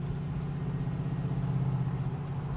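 A 1971 Chevrolet C10 pickup idles steadily, its exhaust burbling from the tailpipes in a low, even rumble that holds without change throughout.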